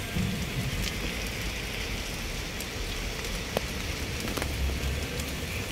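Steady, dense rainfall hisses continuously, with scattered drops pattering on nearby surfaces; no voices.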